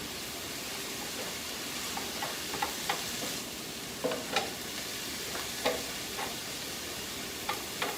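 Garlic and spinach sizzle in a hot pan as they are sautéed, a steady frying hiss with light intermittent stirring clicks and scrapes, close and without talk.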